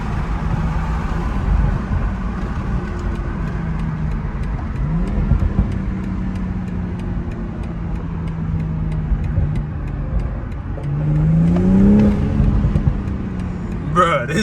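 BMW M340i xDrive engine heard from inside the car with revs rising and falling and a few short exhaust pops, while people talk over it for much of the time.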